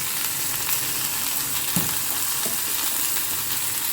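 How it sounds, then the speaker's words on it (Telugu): Tomato pieces frying in a pan with green chilies, curry leaves and coriander for tomato-coriander chutney, a steady close sizzle with a couple of soft stirring knocks. "కొత్తిమీర కూడా వేగాక టమాటా ముక్కలు వేసేసుకోవాలి"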